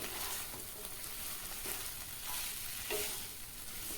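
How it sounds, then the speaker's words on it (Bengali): Fried small crabs tossed into oil-rich masala in a pan give a steady, fairly quiet sizzle with soft scraping stirs and a few brief clatters, close by with no voices. "এবার ভেজে রাখা কাঁকড়াগুলো দিয়ে দিলাম"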